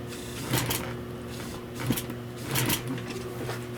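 A sewing machine stitches upholstery for a 1966 Buick Wildcat GS rear armrest, running in short bursts with rhythmic mechanical whirring and clatter, close and steady.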